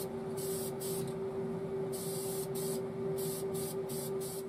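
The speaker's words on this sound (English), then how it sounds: "So let's spray the white on the trim" White paint sprayed onto trim inside a paint booth, heard as bursts of hissing spray starting and stopping over a steady booth fan drone, fairly close, with no talk.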